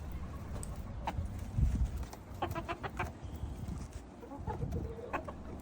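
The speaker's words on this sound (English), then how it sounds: "Look at these chickens." Chickens in a backyard flock cluck in scattered short calls, some faint and some nearer, over a soft background of pecking and scratching sounds.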